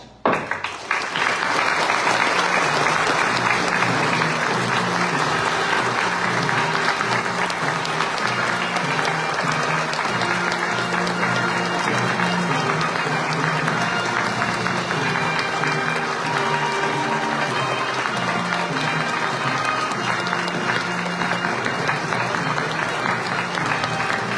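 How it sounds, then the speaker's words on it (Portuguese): A sustained, vibrant round of applause for the grand masters at a Masonic ceremonial session marking Brazil's Independence Day, many hands clapping in a thick, even roar that begins abruptly and holds strong for over twenty seconds. "Saudemos os nossos grão-mestres com uma vibrante salva de palmas"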